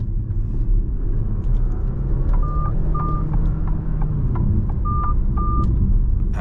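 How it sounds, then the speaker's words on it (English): Inside a moving Alfa Romeo Tonale Veloce eAWD plug-in hybrid, the blind spot warning system sounds two pairs of short, clear chimes over a steady low road rumble, with no one talking. "That was the blind spot warning system."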